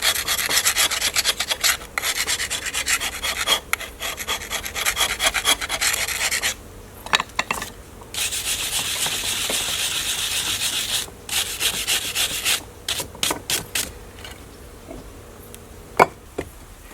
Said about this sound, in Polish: Mam też takie stare dłuto.